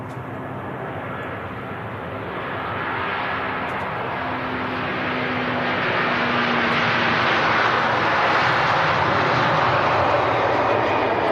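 A large airliner, an Airbus A330 jet, roars during takeoff at Manchester Airport, a steady broadband engine rumble that swells gradually louder over the clip and holds strong, with no talking.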